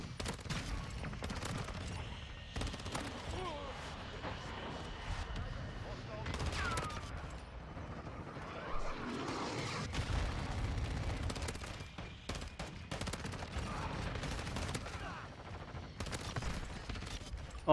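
Rapid automatic fire from a VEL 46 submachine gun in Modern Warfare 2 on the Shipment map: dense, continuous bursts of gunfire with overlapping shots and impacts, loud and close throughout, with a player talking over it.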